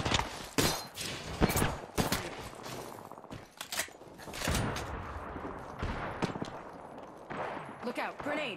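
A video game firefight with sharp gunshots and rapid bursts of fire, some close and some farther off, mixed with footsteps and a few impacts and shattering sounds over several seconds.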